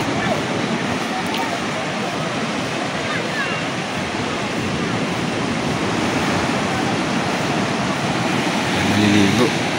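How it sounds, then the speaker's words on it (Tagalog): Steady, heavy ocean surf at low tide roars in a continuous broadband wash, with loud breaking waves nearby and wind buffeting the microphone throughout. "Lakas ng alon"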